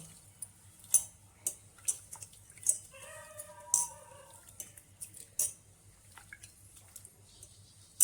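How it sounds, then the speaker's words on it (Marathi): Barnyard millet rice is rinsed by hand in a vessel of water, with soft splashes and swishing plus light clinks against the container, close and quiet. "हे वरी तांदूळ स्वच्छ धुवून घ्यायचे"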